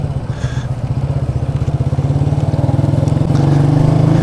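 Manual motorcycle engine braking and rev matching on a downshift, a close, steady throbbing putter that builds slightly in loudness and pitch, with no talking.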